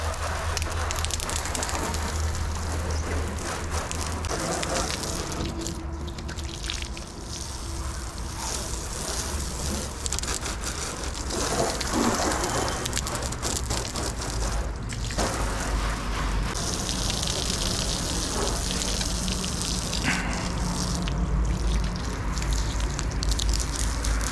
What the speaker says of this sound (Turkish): Hani şöyle su tutuyorum. Yavaş yavaş akıyor.